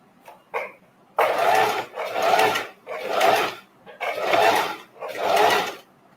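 A sewing machine stitches one piece of fabric onto another in five separate bursts of running, each about a second long, with short pauses between them. The sound is close and fairly loud, and nobody talks.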